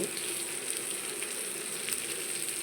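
Fish frying in a pan after a sprinkle of masala powder, giving a steady close hiss and sizzle that runs evenly throughout with no voices.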